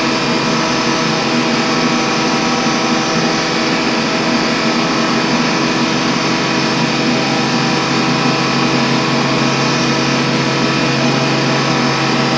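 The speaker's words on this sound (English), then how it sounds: "it's going to profile out the finished shape" CNC machine profiling the finished shape of a follower part, a steady, loud, unbroken mechanical whir and hiss of cutting that holds level throughout.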